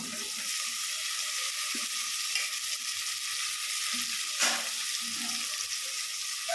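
Tomatoes fry with onions in a pan, giving a steady, fairly soft sizzle with a few stirring scrapes and a brief louder flare midway, close and unaccompanied by speech.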